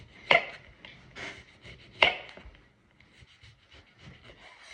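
Two sharp knife chops through lemons on a cutting board, about two seconds apart, followed by quieter scraping and light handling sounds, close by.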